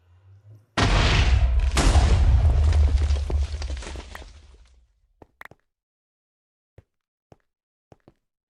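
An explosion in Minecraft Hypixel Skyblock blasts apart cobblestone, a sudden loud, rumbling boom that rolls on for several seconds before fading, followed by a scatter of small, sparse pops and clicks.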